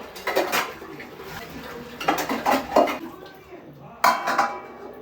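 Washed kitchen dishes, a tawa, a rolling pin and a board clink and clatter as they are put away, in three short bursts of metallic knocks separated by quiet pauses.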